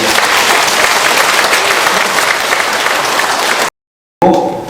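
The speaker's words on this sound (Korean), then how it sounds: "큰 박수로 부탁드립니다" Steady, dense applause fills a hall as an audience welcomes a Catholic singer at a faith lecture. It stays loud and even for several seconds, then breaks off abruptly.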